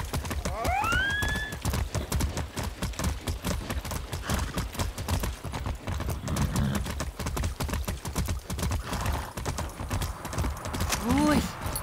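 A horse in the video game Far Cry 6 gallops in a rapid, steady clip-clop of hooves that fills the whole stretch, with a whinny near the start and another snort and neigh near the end.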